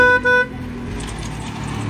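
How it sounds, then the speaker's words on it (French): Two short car horn toots sound in quick succession at a roadside citizens' gathering in Cannes la Bocca, followed by steady passing traffic noise. "Ça klaxonne."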